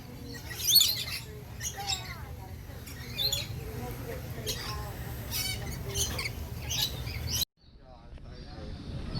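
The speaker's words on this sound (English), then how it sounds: "Pretty bird, get some nectar." A bird at an aquarium squawks and chirps in short bursts while being hand-fed nectar, close by amid busy visitor chatter and background noise, with a voice talking to it.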